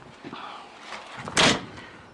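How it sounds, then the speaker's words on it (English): Driver's door of a 1949 Dodge being locked with the key: a soft metallic rattle and fiddling, then one sharp, louder click-clack of the lock mechanism, close up and alone. "as you get out you can lock the driver's door with the key"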